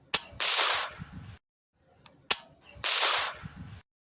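Two sharp toy cap gun pops about two seconds apart, each followed by a hissing fizz that trails off for about a second, in an animated New Year scene.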